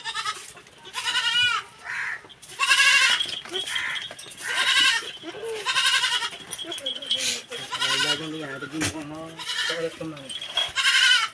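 Several loud, wavering goat bleats come in bursts as people try to catch a goat, mixed with people talking nearby.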